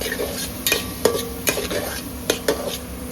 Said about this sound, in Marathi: हे कांदा आणि टोमॅटो आपण व्यवस्थित ढवळून घ्यायचे दोन्ही पण